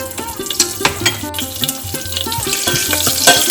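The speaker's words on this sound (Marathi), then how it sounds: "थोडेसे मिरची फ्राय होऊ द्यायची आहे" Slit green chillies fry in hot oil in a pan, giving a close, continuous crackling sizzle with rhythmic stirring clicks and no voices.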